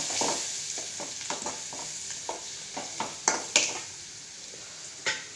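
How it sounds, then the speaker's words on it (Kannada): Onion frying in a pan with sambar powder added for mosaru saru, a continuous sizzle under repeated scraping strokes of a spoon as the mixture is stirred. "ಒಂದು ಈರುಳ್ಳಿ ಚೆನ್ನಾಗಿ ಫ್ರೈ ಆಗ್ತಿದೆ. ಅದಕ್ಕೆ ಸ್ವಲ್ಪ ಸಾಂಬಾರು ಪುಡಿ ಹಾಕ್ಕೊಳ್ಳಿ."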